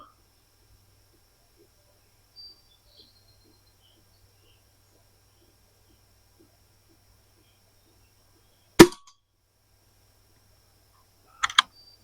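Two sharp reports from an Anschutz 2002 air rifle firing H&N pellets, one single shot and then a quick pair near the end, close and crisp against an otherwise quiet background.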